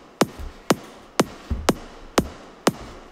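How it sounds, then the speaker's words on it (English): High-pass filtered kick drum programmed in Ableton for a piano house track: six evenly spaced, thin, clicky thumps with the low end stripped away, played alone at a steady tempo. "Exact same kick, but it's been high pass filtered."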